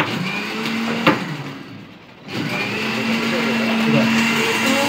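Blender crushing seized narcotics evidence mixed with detergent at a police drug-destruction event, a loud continuous whir that drops briefly mid-clip before resuming steadily, with voices faintly underneath.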